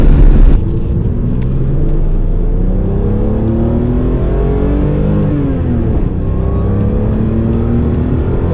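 A BMW E24 coupe pulls away from a rolling start, its engine note climbing steadily through a long loud acceleration, with a gear change partway through and no talk.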